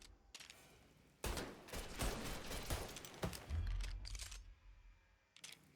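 Mafia 3 shootout with dense bursts of gunfire and heavy thumps, loud and continuous through the middle, with quieter stretches at the start and end.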